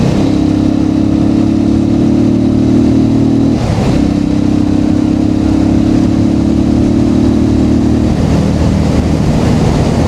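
A vehicle's engine drones steadily while held in low second gear on the Karkala–Dharmasthala road, a loud, constant growl with a brief dip partway through and no talking.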